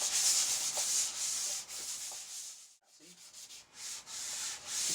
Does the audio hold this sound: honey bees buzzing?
no